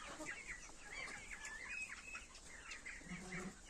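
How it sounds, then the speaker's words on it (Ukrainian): Chickens of mixed ages, older hens alongside young growers housed together on a farm, cluck in a steady run of short calls close by, with no one talking. "є дорослі кури. Живуть вони всі разом."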